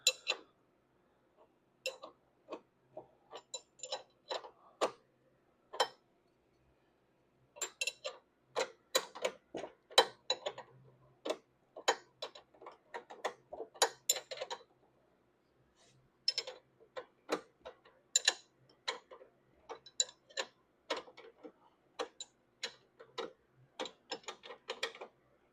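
A 3/4 inch non-ratcheting wrench turns a bolt, giving faint, close metallic clicks and scrapes in short irregular clusters separated by quiet pauses as the tool is repositioned.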